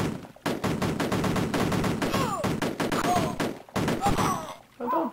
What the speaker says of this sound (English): Is he shooting in the water? They are!